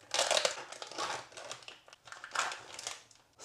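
The seal of a silken tofu package is torn open in a kitchen: close, crinkly plastic rustling in several bursts, alone and fairly quiet.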